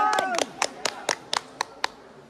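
Hands clap sharply about eight times in an uneven rhythm, fairly close and moderately loud, during a casual gathering at a badminton invitational match, with a voice briefly audible at the start.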